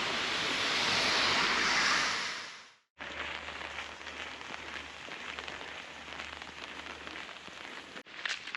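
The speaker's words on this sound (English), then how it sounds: "the rain is not too bad at the moment, sort of a light sprinkle" Light rain sprinkles outdoors on a walk, a loud rushing patter that cuts out briefly, then returns as a softer, steady hiss of drops for several seconds.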